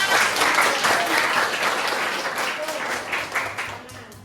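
A classroom of sixth-grade children claps together, a lively close burst of hand claps that keeps going, with a few voices mixed in.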